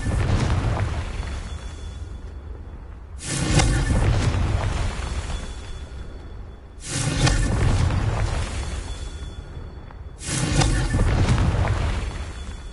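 Three booming blasts from the Confringo fire spell in Hogwarts Legacy, each a broad rumbling burst that swells and fades over a couple of seconds, spaced evenly and fairly loud.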